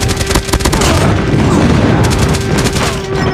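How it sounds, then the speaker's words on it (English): Airstrike explosions rumble through a multiplayer shooter match, a dense barrage of booms and blasts rolling continuously for several seconds, loud and close, with faint game voice cues underneath. "Airstrike incoming."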